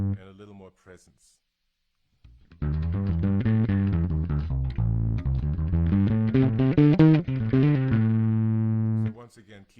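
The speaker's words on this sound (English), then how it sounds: "A little more distortion" A heavily distorted electric bass guitar plays a steady, loud riff, with a short burst of sound and a pause before it kicks in.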